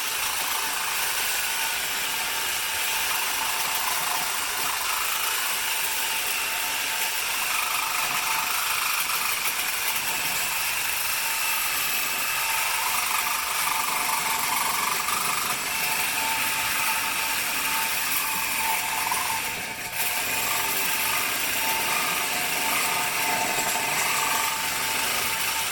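Cutting off an inner tie rod end on a 1979-2004 Mustang with a power tool, a steady loud grinding whine that runs without a break for the whole stretch, with one short dip near the end.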